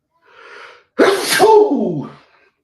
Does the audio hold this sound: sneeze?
yes